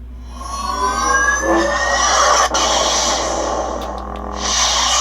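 A lightsaber performs a full ignition, its sound effect swelling into a loud, buzzing electric hum with crackling, shifting tones that surge and hold for several seconds, close up with no talking.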